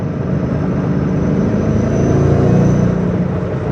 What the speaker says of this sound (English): Car sounds awesome.